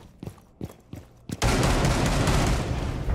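Gunfire in Rainbow Six Siege: a few separate loud shots, then a sustained dense burst of rapid automatic fire that continues to the end.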